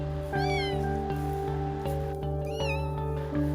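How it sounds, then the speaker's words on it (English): A tiny kitten stuck inside a metal cylinder cries out in repeated high meows, each rising and falling, over a steady low tonal drone. "he heard the cries of a tiny little kitten begging for help"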